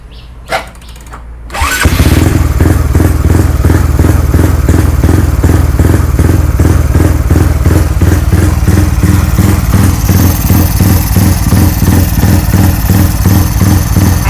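A Honda Wave motorcycle engine, freshly assembled with a 59 mm bore, 24/21 valves and a hand clutch, starts after a couple of light knocks and settles into a loud, steady, close idle with a fast, even throb.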